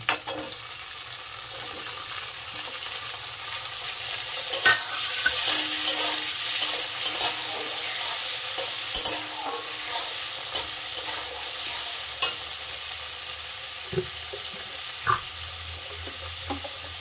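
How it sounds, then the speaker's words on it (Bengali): Chopped tomato sizzles in a pan with lightly fried onion while being stirred, a steady frying hiss broken by sharp scraping clicks of the spoon against the pan, close and clear with no talking. "পেঁয়াজটাকে আমি হালকা ভেজে নিয়েছি, এবার দিয়ে দেবো টমেটো কুচি।"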